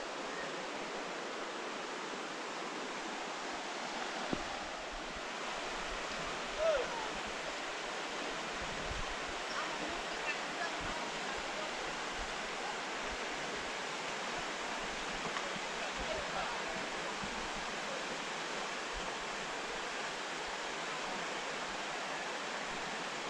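The Sebes-Körös river rushing through its gorge, heard from near river level as a constant broad roar of flowing water that stays even and unbroken throughout.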